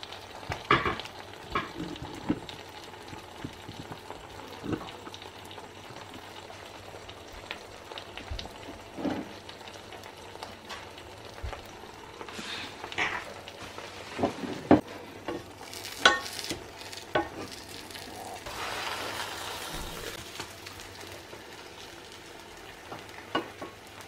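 French toast cooks in a frying pan with a steady, quiet sizzle, broken by scattered soft clicks and pops across the whole stretch, with no voices.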